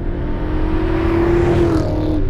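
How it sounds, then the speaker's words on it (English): A BMW E39 M5 with its muffler deleted and resonator kept idles with a deep, throaty exhaust note, rising briefly in a rev before settling back down, steady and fairly close. "The muffler delete, you get a little more throat out of it, but it's not super loud."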